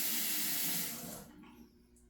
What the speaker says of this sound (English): I spit the toothpaste into the sink, and then I rinse with water.